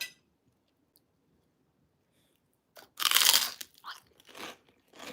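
Crunchy food, served with blue cheese crumbles, being bitten and chewed close to the microphone: near silence, then a loud burst of crunching followed by several shorter chewing crunches.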